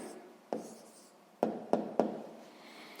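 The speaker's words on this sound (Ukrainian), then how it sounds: "Ну що ж, записуємо відповідь." Pen marks on paper while writing down a math answer, four short scratchy strokes in an otherwise quiet room, close and soft.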